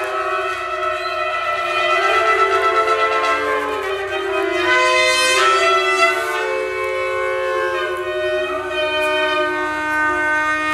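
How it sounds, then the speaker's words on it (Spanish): Shofars sound during a lively church worship service, long sustained horn blasts layered over one another, loud and continuous throughout, with wavering pitched tones and no speech. "Que suenen los shofares para el Señor."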